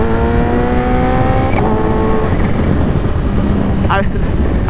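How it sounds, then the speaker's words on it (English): A Kawasaki Ninja H2 motorcycle accelerates on light throttle, its engine note climbing steadily in pitch through the gears. The engine is loud and close under heavy wind roar. "I wish I could convey to you how little throttle this bike takes to get up to speed"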